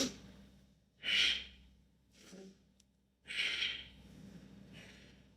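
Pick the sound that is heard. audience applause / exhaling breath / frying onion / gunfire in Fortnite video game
exhaling breath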